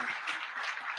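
Audience applause for a music director at a film interview event, a steady wash of many hands clapping together, moderately loud and continuous throughout the brief moment.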